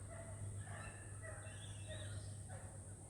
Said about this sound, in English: Sounds like a dog's being killed in the distance.